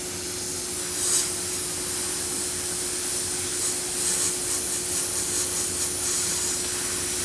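An airbrush sprays paint to shade a skull artwork, a steady, close, even hiss that runs without break, with a faint constant tone underneath and no talking.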